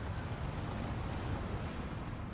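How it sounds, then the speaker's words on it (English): Bombing run explosion striking troops and artillery in the Steel Division 2 strategy game: a sustained, heavy low rumble that stays loud and steady throughout, with no distinct sharp blasts standing out. "He's coming in for the bombing run now. And that's going to land right on top of those DDs as well as the artillery."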